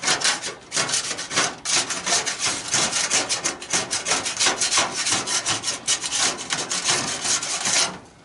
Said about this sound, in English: still got a little bit to clean up here with the putty knife